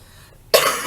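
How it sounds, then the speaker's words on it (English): One sharp, breathy human cough bursts out suddenly after a moment of near quiet, close and loud, then trails off in a rough exhale. "Please excuse my cough"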